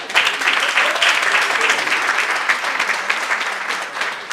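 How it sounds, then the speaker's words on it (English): An indoor audience claps together at a community event, loud dense applause that continues steadily and close for several seconds. "Give yourselves a hand clap."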